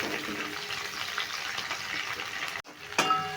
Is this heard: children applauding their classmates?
no